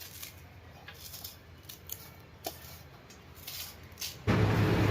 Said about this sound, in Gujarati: આપણે આ લીલા ધાણા લીધા છે બસો ગ્રામ નાખી બે પેન એને આમ કટિંગ કરી નાખીએ